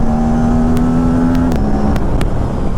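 An Aprilia RS 457 motorcycle pulls hard with the throttle wide open, a loud close engine drone rising in pitch, then dropping as a gear shifts, with brief clicks and wind rush.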